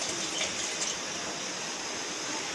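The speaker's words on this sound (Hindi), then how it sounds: "ये मैं इसमें पानी डाल रही हूँ" Water poured steadily into lentils for dhaba-style mash daal, a continuous broadband splashing gush close by, fairly even in level throughout, with no talking.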